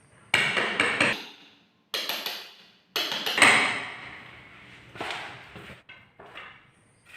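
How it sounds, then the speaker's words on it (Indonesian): A hammer taps an 8 mm steel rod against a wall to cut a drip groove beside a door frame while granite trim is fitted, giving six sharp metallic knocks in irregular bursts with ringing tails, close and without talk. "menggunakan besi 8 dengan cara diketuk dengan palu"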